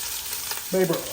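Sea scallops searing in butter in a pan, a steady close sizzle and crackle of frying fat with a brief scrape as they are moved around.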